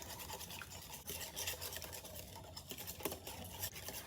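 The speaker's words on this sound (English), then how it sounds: "give it a quick whisk until everything's well combined" Eggs with garlic powder and ground sage are whisked in a bowl, giving a steady, quiet rapid scraping and tapping patter that continues throughout without talk.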